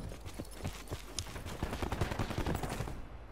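Rapid automatic gunfire from a Cordite rifle in a first-person shooter, a dense stream of sharp close shots rattling steadily for about three seconds before cutting off, no talk.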